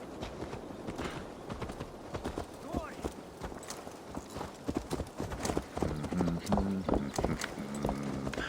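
Horse hooves clip-clopping at a walk in the video game Assassin's Creed Valhalla, a rhythmic clatter of steps with a short whinny and a voice talking over part of it.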